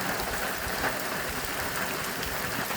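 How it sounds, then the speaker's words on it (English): Light rain falls in the bush, a steady, even hiss of fine drops pattering on surfaces all around, with no voices or other sounds. "It's been raining lightly all day."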